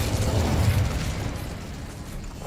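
Incendio fire spell cast in Hogwarts Legacy, a sustained roaring, crackling burst of flame that stays loud and dense for a couple of seconds before easing slightly, with no voices over it.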